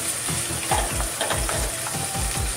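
Capsicum and tomato sautéing in a hot pan, a continuous sizzle broken by regular stirring scrapes about twice a second, close and alone.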